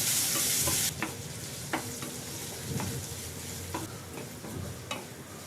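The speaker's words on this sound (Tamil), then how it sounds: "இப்போது இஞ்சி பாதி அளவு நல்லா வதங்கிடுச்சு." Chopped ginger sautéing in a pan for Tamil inji thuvaiyal, giving a steady low sizzle with intermittent clinks and scrapes of stirring throughout, preceded by a brief louder burst of hiss at the start.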